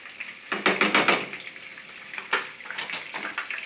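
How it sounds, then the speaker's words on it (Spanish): Two garlic cloves frying in hot oil in a pan with a steady soft sizzle, broken up by a few clinks and scrapes of stirring nearby. "vamos a agregarle el ajo, 2 dientecitos de ajo al aceite"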